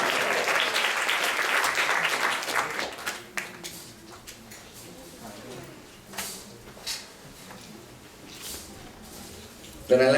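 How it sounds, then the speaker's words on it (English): Applause from a temple congregation for a devotee, loud at first and then thinning into scattered claps and murmuring voices with some louder claps near the end. "So let's give a round of applause for his service"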